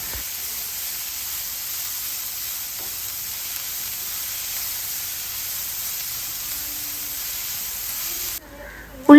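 Onions sauté in coconut oil in a pan, giving a steady, close sizzle and hiss that runs without pause and drops away at the very end.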